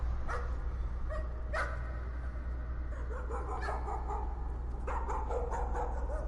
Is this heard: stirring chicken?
no